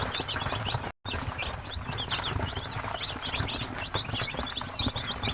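Tiger-breed chicken chicks at a farm keep up a constant chorus of high, overlapping peeps and cheeps. The chirping is dense and continuous, with rustling and farm noise underneath.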